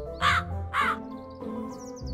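A crow in an animated fairy tale gives two loud, harsh caws in quick succession, followed by quieter rustling and a fainter call, with no speech.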